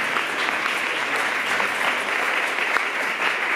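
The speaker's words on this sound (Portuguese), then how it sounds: "eu queria uma salva de palmas para ele" Steady applause from an audience for a recording studio owner, a dense, even wash of clapping that holds at a constant level from start to finish with no voices over it.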